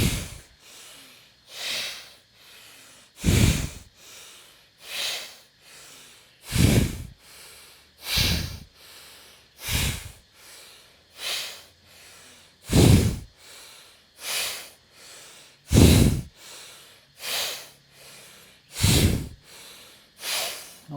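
Deep, strong breaths during a yoga exercise, each long inhale and exhale rising and falling in a steady slow rhythm, close and clear with no talking.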